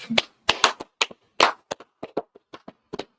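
A handful of sharp, close hand claps at a radio news desk, sounding in an uneven, loose rhythm of distinct single claps with short gaps between them.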